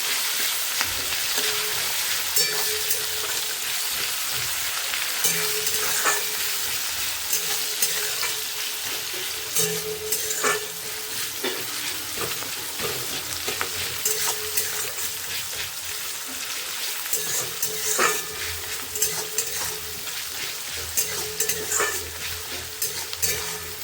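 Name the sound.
frying onions and green chillies with spices, stirring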